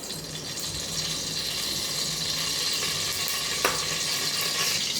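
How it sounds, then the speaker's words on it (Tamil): Ghee goes into hot oil in a pan while cooking chicken biryani, giving a continuous bright frying sizzle and hiss at close range, with one sharp clink partway through. "இப்போ நம்ம நெய் ஊற்றிக்கலாம், கீ ஊற்றிக்கலாம்."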